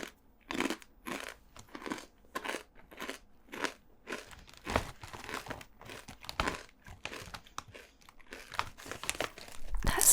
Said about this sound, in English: I hope the chewing's not too loud.